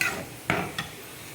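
Spices tempering in hot coconut oil for an Onam inji puli pachadi give off a faint, steady sizzle, broken by two brief utensil clinks against the pan, with no voices.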